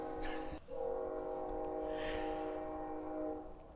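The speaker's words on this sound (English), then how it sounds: "There's the train." A train horn sounds in sustained, layered tones as a train passes at a distance, with a brief break early on and a steady rumble beneath.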